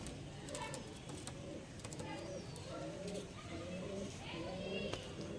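Pigeons at a pigeon sale coo repeatedly in soft overlapping calls, fairly close, against a constant low background hum.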